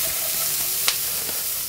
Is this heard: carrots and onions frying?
yes